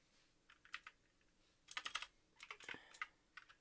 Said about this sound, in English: I can't type on a crooked keyboard.